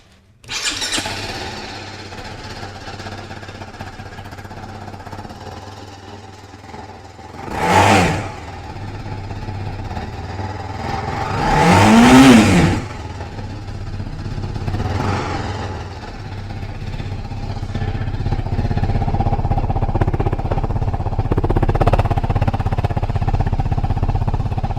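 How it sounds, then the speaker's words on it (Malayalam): A TVS Apache RR310 motorcycle fitted with a race kit exhaust, revving in three sharp bursts over a steady, thumpy idle, close and loud, with the idle growing fuller toward the end. "എക്സോസ്റ്റ് നോട്ടിൽ ചെറിയ മാറ്റമുണ്ട്, നിങ്ങൾ കേട്ട് നോക്ക്"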